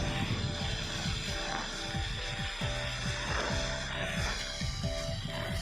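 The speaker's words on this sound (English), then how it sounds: "Another attempt, but again, it only burns without launching." A homemade potassium nitrate rocket fuel charge burns steadily in place without launching, giving a continuous loud rushing roar with crackling, uneven pulses throughout.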